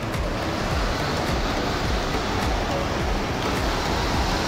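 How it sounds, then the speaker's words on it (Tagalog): Steady, dense rush of falling water, loud and continuous like a waterfall nearby, with no pauses or other distinct sounds. "Yung tunog ng falls ng tubig,"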